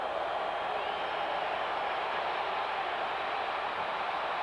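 Steady, dense roar of a stadium crowd at a 1986 NFL football game between the Raiders and Cowboys, building on a crucial third down, continuous and unbroken with no individual voices standing out.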